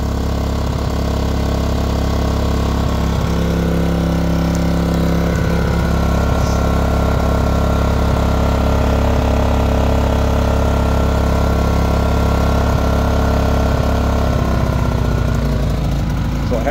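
A Westinghouse iGen4000DFC inverter generator running on natural gas after a propane-to-natural-gas conversion, its small engine holding a steady, loud, continuous drone throughout with a brief shift in pitch near the end.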